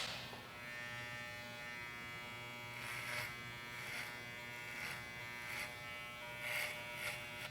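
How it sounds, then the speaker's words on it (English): A Wahl 5-star Legends hair clipper fitted with a closed number 2 guide comb buzzes steadily while cutting down the sides of a head, its tone rising in brief swells as it passes through the hair, close and alone. "Using my Wahl 5-star Legends with a 2 attachment guide comb closed, I will clear the canvas and bring down the weight of the sides"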